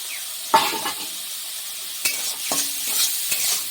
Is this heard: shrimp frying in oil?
yes